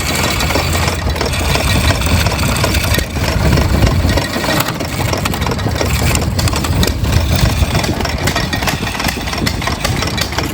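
Antique tractor engine at a hit-and-miss engine and tractor show being cranked to start, a rough continuous mechanical chugging and clatter, loud and close throughout with no voices.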